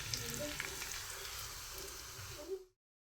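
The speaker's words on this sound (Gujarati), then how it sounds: "હવે વઘારને મિશ્રણમાં ઉમેરી દઈએ" Hot oil tempered with half a teaspoon of mustard seeds, curry leaves and green garlic hits a mashed potato and fenugreek-leaf mixture for batata vada, giving a loud, steady crackling sizzle with small pops that cuts off abruptly.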